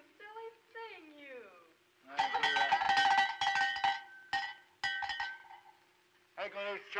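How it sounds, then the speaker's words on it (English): Chimes ring with bright metallic clanging tones in clustered strikes, with a few separate single hits after them, heard between stretches of a voice in an old comedy film. "I can use chimes again."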